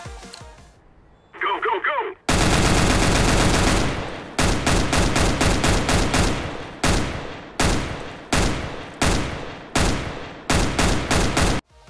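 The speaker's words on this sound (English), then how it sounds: "The Tech 9 has also gotten a lot more beefier in the audio department." Tech 9 pistol firing in CS:GO, with repeated rapid bursts of loud, punchy gunshots in quick rhythmic volleys separated by brief pauses, close and dominant. A short electronic blip comes just before the shooting.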